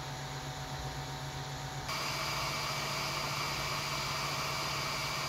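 The stock cooling fan of an Ender 3 Pro 3D printer runs with a steady, close airy whir and faint tonal hum, stepping up slightly in level partway through and continuing unbroken.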